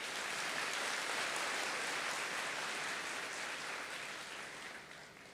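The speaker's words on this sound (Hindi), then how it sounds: "बजाओ ताली अब।" An audience claps together in a steady, dense burst of applause that holds level and then gradually fades toward the end, with no voices over it.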